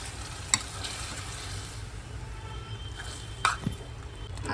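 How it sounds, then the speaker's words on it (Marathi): A chicken biryani mixture is stirred and gently sizzling in a pan over low heat, a steady soft frying hiss with two brief spoon clinks against the pan. "आणि एकत्र मिक्स करायचं आहे व्यवस्थित."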